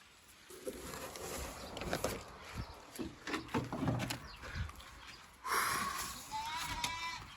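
Goats and lambs bleating, a few calls rising over rustling and movement, with people talking nearby.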